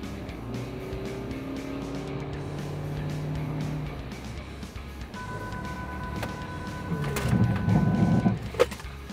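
A Hyundai Stargazer X cruises at about 50 km/h during an automatic emergency braking test, with a steady engine and road hum. Sustained tones run through it and a louder rumble swells near the end.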